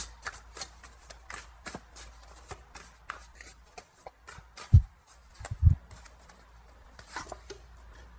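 Tarot cards are shuffled by hand for a reading, producing a steady, close run of soft riffling pats and flutters, with a couple of louder thumps near the end.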